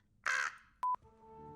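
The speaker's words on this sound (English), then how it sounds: "Just if I heard a crow, it sounded like that." A crow cawing, a single harsh, loud caw, followed after a pause by two short electronic blips and a thin, steady tone.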